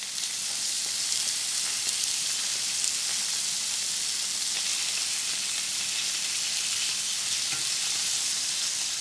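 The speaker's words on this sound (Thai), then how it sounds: "จีไปสักพักให้ข้างนอกเกรียมสวยแล้วก็ข้างในสุกดีค่ะ" Food pan-frying over low heat in a pan for a Japanese bento breakfast, a steady close sizzle and hiss running evenly throughout with no talk.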